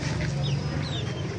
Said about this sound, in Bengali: এই যে আমার সে মুরগিগুলো